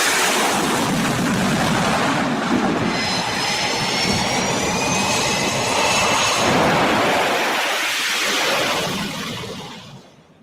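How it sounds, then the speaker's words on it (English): Jet aircraft launch from the aircraft carrier USS Abraham Lincoln: a loud, continuous roaring jet engine with a rising whine that sustains for several seconds, then fades away as the jet departs. "The videos show back-to-back jets taking off from the carrier."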